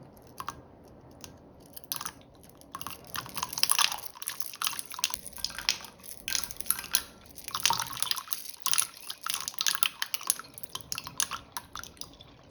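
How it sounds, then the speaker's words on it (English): Small plastic LEGO bricks plop and splash into water in a busy, irregular patter, some drops close and crisp, others softer, with no voices. "enjoy the immersive sound of parts hitting the water"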